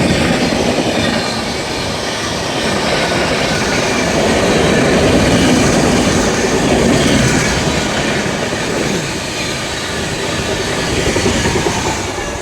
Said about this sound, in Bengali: Tatanagar Howrah still express.